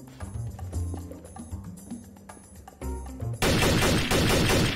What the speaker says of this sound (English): Why are you shooting at me, you bastard?